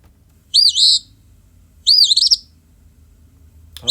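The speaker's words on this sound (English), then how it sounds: "this is house sparrow." Two bursts of bright, warbling chirps from a house sparrow, each about half a second, separated by a pause, over a quiet low hum.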